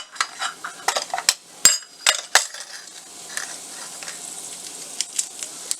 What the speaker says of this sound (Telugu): ఎండుమిర్చి, కరివేపాకు వేసుకొని ఫ్రై చేసుకోవాలి